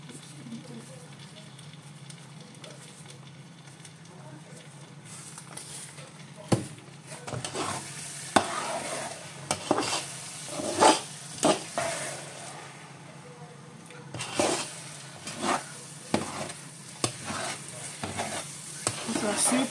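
Village-style rice is stir-fried in a pan with a little salt: a continuous soft sizzle is punctuated by irregular scraping and clacking strokes of the utensil against the pan.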